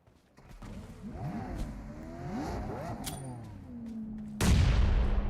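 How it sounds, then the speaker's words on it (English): Grenade blasts and gunfire sound from a PUBG Mobile esports match, with sweeping tonal effects and bursts of shots building into a loud, broad explosion near the end, dense and continuous. "Use of grenades back to back bombardings are being done"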